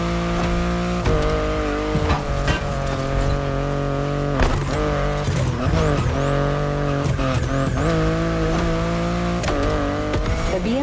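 A BMW i8 driving, its engine a loud, steady drone with rising and falling revs and sweeping pitch changes, continuous and close throughout.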